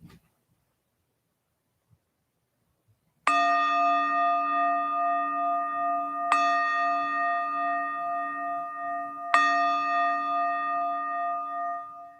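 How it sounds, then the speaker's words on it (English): Three meditation chimes ring out one after another at steady intervals, each a clear bright strike with a long sustained ringing tone, alone after near silence. "after 3 chimes, we will conclude this sit"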